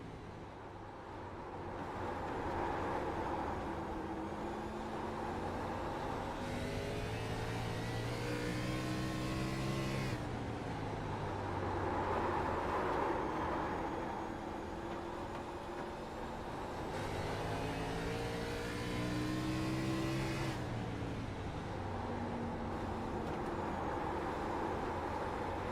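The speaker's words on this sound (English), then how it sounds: "Just listen to the tires screaming on that car and how little he is on throttle here" Stock car engine droning and rising in pitch through the turns of a racing video game at the Nashville Fairgrounds track, loud and continuous, with tire squeal blended into the roar.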